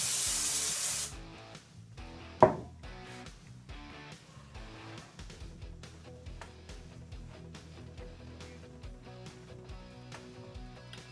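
FastCap 2p-10 adhesive activator sprayed onto MDF for a router template, a short loud hiss at the start followed by quieter workshop noises and a faint tap.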